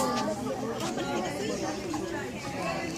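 Steady crowd chatter at a baby's birthday party indoors, many overlapping voices murmuring and talking at a constant level with no single voice standing out.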